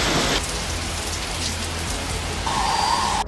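Heavy rain pours across parts of Karnataka, a loud, dense, continuous hiss of drops beating on surfaces, steady from start to finish with no voices.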